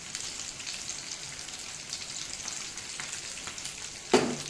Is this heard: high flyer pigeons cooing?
no